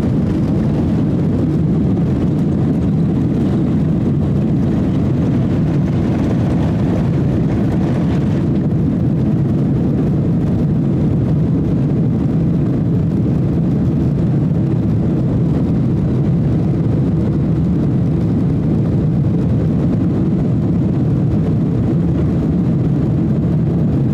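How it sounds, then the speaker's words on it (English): Airliner taking off from Kansai Airport, heard from inside the cabin as a loud, steady low engine roar and rumble that builds and holds for the whole stretch, without talk. "We're about to take off from Kansai Airport to Bangkok."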